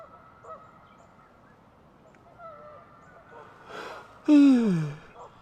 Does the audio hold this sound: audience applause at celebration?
no